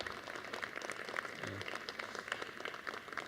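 A seated audience at an agri-food partners' annual meeting claps for a team member, a faint, steady patter of many hands heard from a distance with a low murmur underneath.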